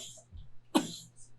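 A single sharp, forceful cough on command during a contrast echocardiography exam bursts out near the middle, with a quieter breathy onset at the end; otherwise near silence with low hum.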